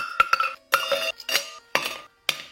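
Ice cubes clatter into a metal cocktail shaker in a series of sharp, distinct clinks and knocks, several separate drops spaced irregularly, close and loud with no voices.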